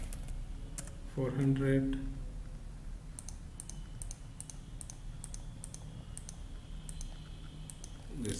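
Computer mouse clicks tick in a steady, evenly spaced series while someone fills out a CBAP certification application form online. The clicks are quiet and close, and a voice briefly speaks near the start.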